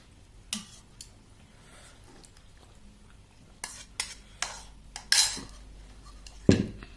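Spoon scraping and clinking against a plate while curry is served alongside fish and mashed potato, scattered short metallic taps and scrapes, close and fairly quiet, with no talking.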